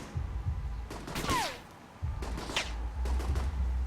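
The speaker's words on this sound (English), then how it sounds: "you pay money for the intel to get this sniper rifle dead drop, and you can shoot one guy" Sniper rifle shot in Alpha Protocol, a sharp crack with a whistling tail followed by a couple of further sharp reports over low rumbling background noise.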